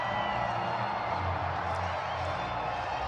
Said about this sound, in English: The crowd is starting to go wild.